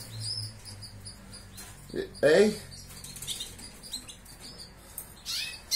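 Cage birds such as canaries and goldfinches in a homemade flight aviary give scattered chirps and flutter their wings in short bursts, with a voice speaking briefly.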